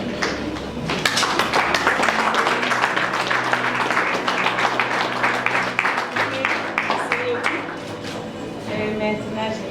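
Guests at a civil wedding ceremony give a burst of clapping for the couple's parents. The dense applause runs throughout at close range, with voices talking over and among it.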